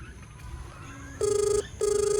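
A telephone rings in two loud, close electronic bursts, each a steady warbling tone about half a second long separated by a short pause, over faint room noise and left unanswered.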